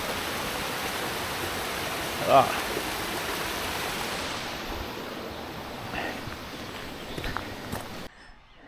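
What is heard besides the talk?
waterfall and stream on a hike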